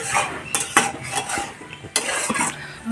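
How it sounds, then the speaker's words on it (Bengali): Meat being stir-cooked in a pot, with clanking spatula scrapes and metal knocks against the pan over a soft sizzle, close and loud in irregular bursts, no talk. "চলো, তো মাংসটা কষা হচ্ছে, মাংসটা হলে হয়ে যাবে।"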